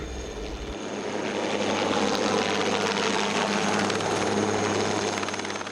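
An SA 315B Lama helicopter flies close by, its loud, steady rotor and turbine roar filling the air with a constant rhythmic chop and no voices.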